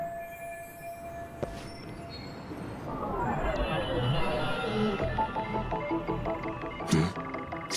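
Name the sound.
train riding toward Shinjuku in video game Lost Judgment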